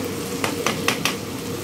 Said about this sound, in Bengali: আলু দিয়ে জাস্ট 5টা মিনিট কষিয়ে নিব একটু